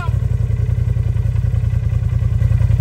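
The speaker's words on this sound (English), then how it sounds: "found a winch, now they're starting to winch him out" Engine of a winch-equipped off-road setup pulling a stuck Polaris RZR out of the woods, a loud close mechanical drone with a steady pulsing low throb and a faint rattle.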